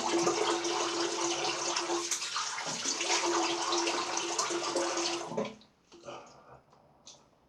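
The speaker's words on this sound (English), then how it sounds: "Just going to drain a drop of water." Tap water runs steadily into a basin during wet shaving with a vintage Gillette Toggle razor, a close, continuous rushing splash for about five seconds before the flow stops, leaving faint drips and small handling sounds.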